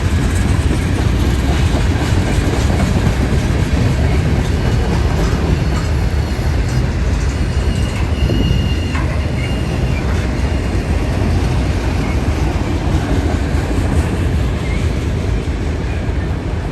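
A Union Pacific freight train with boxcars rolls past close by, its loud continuous rumble and wheel clatter steady throughout with no pauses.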